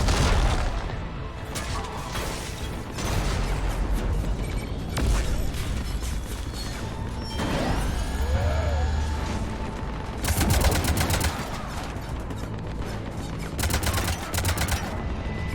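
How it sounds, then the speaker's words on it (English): Heavy cannons fire during a battle in Mass Effect 3 while Omega is being retaken, with booming shots and sharp bursts over a steady din of mechanical noise and gunfire. "Cannons engaged."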